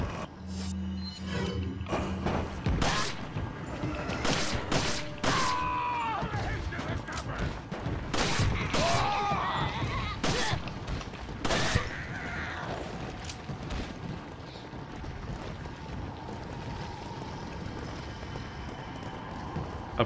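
Shotgun blasts and other gunfire in the Resident Evil 4 video game, a series of loud, separate shots with a scramble of running footsteps and game noise, and someone talking at times.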